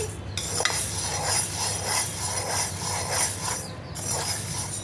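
Black gram is stirred as it dry-fries in a pan, with close, steady scraping and light metallic clinks of the spoon against the pan in a repeating rhythm.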